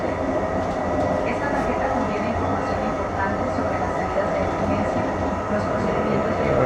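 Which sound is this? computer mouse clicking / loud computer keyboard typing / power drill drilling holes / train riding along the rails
train riding along the rails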